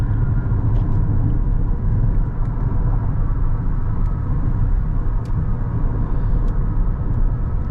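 Steady low rumble of a Lexus NX350h hybrid at highway cruising speed, engine hovering near 1700 to 2000 RPM, with continuous road and tire noise filling the cabin and no talking.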